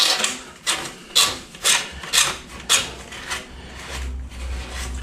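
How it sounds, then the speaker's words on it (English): A deburring tool scrapes the inside of a freshly cut plastic sink waste pipe in about eight short rasping strokes, close and loud, with a steady rhythm and no talk. "I think it's very important that you deburr the insides"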